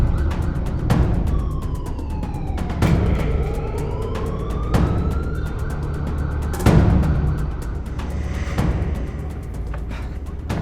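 An ambulance siren wails continuously, loud and close, with rising and falling tones and repeated sharp knocks or thuds throughout, in a Jamaican drama scene.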